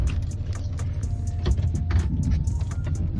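Pickup truck fitted with a snow plow driving, a steady low engine rumble with intermittent clunks and rattles from the plow and cab, no talk.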